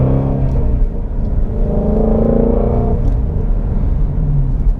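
A Ford Mustang GT350 V8 with its exhaust in sport mode, revved to near 3,000 RPM while driving, producing a loud, steady, close-up rumble with rising harmonic tones and no talking.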